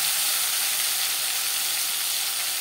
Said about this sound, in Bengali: ডিম ভেজে নেওয়া কড়াইতে আবারও তেল দিয়েছি। এবার দিয়ে দেব মশলার পেস্ট, পেঁয়াজ, রসুন, টমেটো, আদা ও কাঁচা লঙ্কা বাটা।